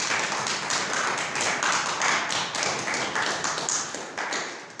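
Loud, sustained applause from a church congregation, dense continuous clapping filling the space for several seconds without pause.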